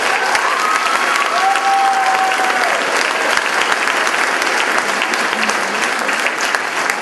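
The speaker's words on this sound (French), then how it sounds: "On peut les applaudir." Steady, loud applause from an audience at an evening show opening for a Club Optimiste de Plessisville event, dense clapping sustained throughout with a faint whistle or tone briefly above the crowd.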